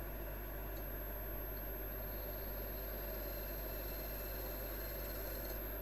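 A woodturning lathe spins at about 1200 RPM, giving off a steady motor hum with a faint high whine over low rumble, constant and unbroken with no speech.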